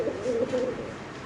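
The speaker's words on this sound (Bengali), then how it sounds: "দেখেন কবুতরের ডাক দেখেন ভাই, পুরো পাগলা ডাক" A pigeon gives a short, close, throaty coo in a single rising and falling phrase, heard alone over faint background noise.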